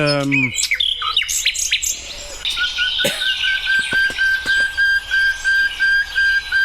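Clear, varied birdsong up close: descending whistles, fluty phrases and a long sustained tone, repeated in rhythmic chirps.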